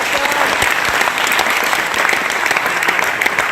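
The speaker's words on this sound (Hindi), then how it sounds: "उनके लिए एक बार जोरदार ताली हो जाएगा।" An enthusiastic audience at a business opportunity meeting claps hard for first-time guests: loud, close, dense applause that carries on steadily with no talk over it.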